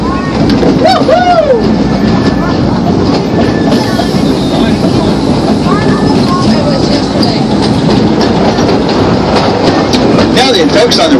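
An amusement park ride train runs along its rails with a continuous loud rumble, rhythmic wheel clatter and occasional squeals, under a narrator's voice.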